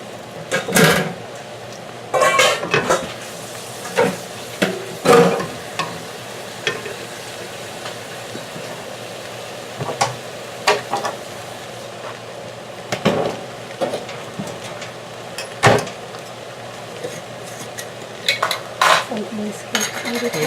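A spoon clanks and scrapes inside a pot as vegetable steak soup is stirred, a steady run of close metallic knocks and clinks that falls silent for stretches, with no talking.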